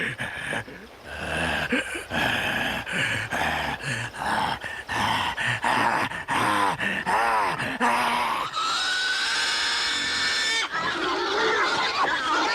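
Pigs squeal, grunt and scream in a noisy jumble, with shouting voices mixed in throughout.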